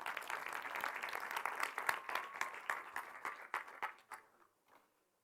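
Audience applause in a talk venue, dense clapping that thins out and fades to a few scattered claps before silence, no talk over it.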